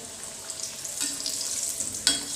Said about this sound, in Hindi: ऐसी सारे स्प्रिंग रोल को धीरे से सेक लीजिए।